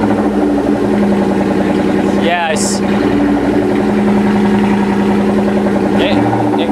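Cobra car engine idling high with a steady, loud rumble and a constant mechanical drone, while people speak briefly over it.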